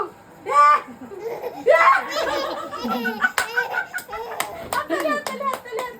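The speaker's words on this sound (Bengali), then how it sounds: "হাততালি।" Small hands clap in quick, light bursts during playtime with a child, mixed with giggles, laughter and chatter from a child and an adult close by.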